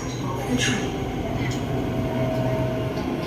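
Inside an SRT Red Line electric train running between stations near Don Mueang in Bangkok, a continuous low rumble of wheels and cabin noise carries on steadily, with faint higher rattles drifting through.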